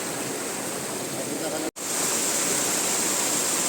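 Water pours strongly into pools at a dam in a forested setting, a loud, steady broadband rush with one brief cut partway through.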